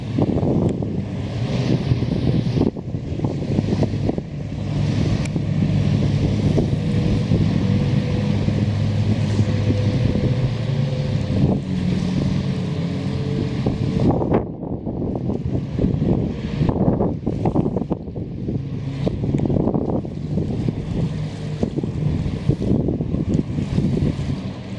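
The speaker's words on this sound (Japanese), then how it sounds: "なんか水上バイクが、たくさん走っています" Many jet skis run on open water near Tokyo Skytree, a steady loud roar of engines blended with wind buffeting the microphone, continuous throughout with no talk.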